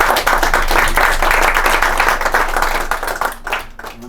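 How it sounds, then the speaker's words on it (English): An audience at a presentation claps together in a close, crisp burst of applause that holds steady and then thins out and tapers off toward the end. "I'd just like to ask everyone to give him a nice round of applause."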